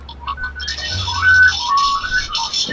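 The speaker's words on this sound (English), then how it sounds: "It's the sound of computing." Warbling, beeping electronic tones meant as the sound of an old 1973 mainframe computer, with wavering whistle-like pitches and some rattly texture, fairly loud and alone for a few seconds.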